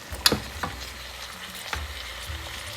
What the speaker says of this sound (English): And you just fry this in that butter till it starts browning